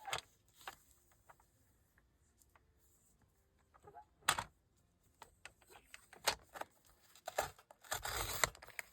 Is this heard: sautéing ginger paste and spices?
no